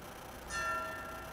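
A boxing ring bell rings once in the video game Knockout Kings 2001, a single bright metallic strike that sustains and slowly fades, heard clearly with no talk over it.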